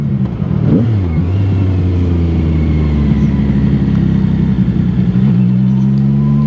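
A motorcycle engine is ridden at full throttle, a loud, steady roar with rising revs that climbs and shifts pitch continuously from start to finish.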